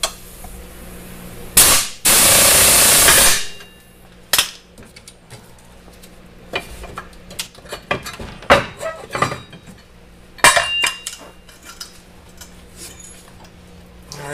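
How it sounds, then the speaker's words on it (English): A hammer strikes a puller to pop off a golf cart clutch: several sharp metallic bangs land at irregular intervals, with quieter clinks and workshop shuffling between them. "I put the puller in, hit the puller, pops the clutch off."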